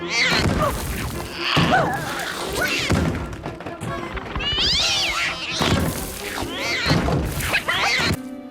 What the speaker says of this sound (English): we see his cat crawls into the wall